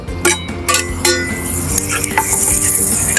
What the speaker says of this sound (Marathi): आता याच्यात आपण धुतलेले मटण टाकून देऊया